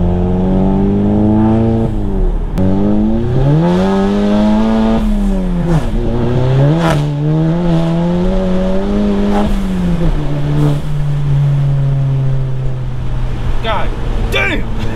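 Loud, close turbocharged Volkswagen MK7 revving hard through repeated rising and falling acceleration pulls, with turbo whine and spool sounds above a deep engine drone and faint talk underneath.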